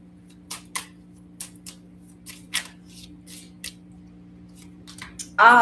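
Tarot cards are riffled and shuffled by hand in short, crisp bursts of flicking and slapping over a low steady hum, ending in a louder sharp flurry.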